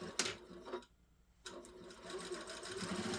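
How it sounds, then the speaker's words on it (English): A sewing machine stitches a trouser waistband in rapid mechanical bursts, pausing briefly in the middle before running on again, close and clear. "We'll stitch on this lining and on the flap, on the band that we just made."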